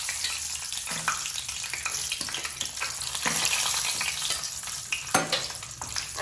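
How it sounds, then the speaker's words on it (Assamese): Cashews and almonds sizzle in hot oil in a pan during chicken biryani preparation, a continuous frying hiss broken by occasional scraping stirs. "তেনেদৰে কাজু আৰু কাঠবাদামকেইটা ভাজি ল'ম"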